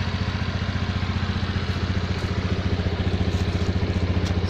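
A 2019 Honda Beat FI standard scooter idles nearby, a steady, even low putter with regular rapid pulses, fairly loud and unchanging throughout, with no voices.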